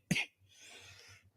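A single sharp, close cough bursts out at the start, followed by a fainter, breathy rasp trailing off as the throat settles, with a low hum beneath.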